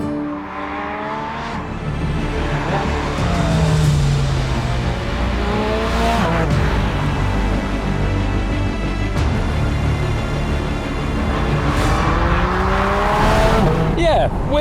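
Porsche 718 Spyder RS with a flat-six engine driven hard on cold December roads in South Wales, loud revs rising and falling through gear changes with occasional tire squeal, close and continuous.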